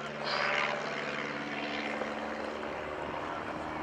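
Aerobatic propeller airplane in a powered spiral dive and recovery at an airshow, a distant droning engine rising slightly early on and then holding a steady, fairly faint hum.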